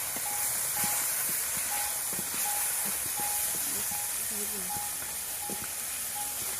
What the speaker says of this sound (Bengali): টমেটোটা ভালো করে কষাতে হবে।